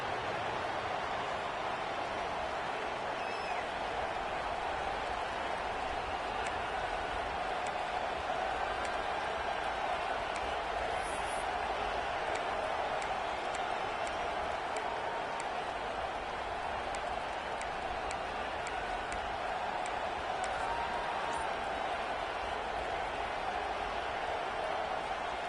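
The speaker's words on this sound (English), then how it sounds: "This crowd ready to make its presence known." A steady, continuous roar from a stadium crowd in a college football video game runs without a break, with a dense wash of cheering and murmur and faint commentary underneath.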